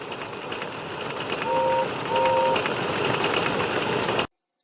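A steam-hauled goods train rumbling along with a steady mechanical churn, and two short whistle-like tones sounding partway through before the sound cuts off abruptly.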